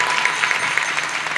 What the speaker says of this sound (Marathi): अतिशय जोरदार टाळ्या वाजवा सर्वांनी